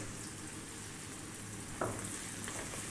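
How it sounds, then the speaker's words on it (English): Fresh sliced white mushrooms go into a pan, a faint continuous sizzle with a brief louder burst as they drop in, then the quiet frying carries on. "Next up, we're going to drop in our fresh mushrooms."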